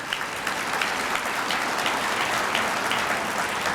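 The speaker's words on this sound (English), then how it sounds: "Give yourselves a round of applause." Applause from a conference audience at a municipal league gathering, a steady, dense wash of many hands clapping throughout, fairly loud and even with no break.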